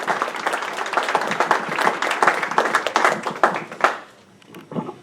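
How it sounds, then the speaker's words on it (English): Audience applause at a Humble High School event honoring Donna Ulrich, a dense, steady round of clapping from many hands that carries on for several seconds before tapering off near the end. "So if you would not mind me one more time, please, another round of applause."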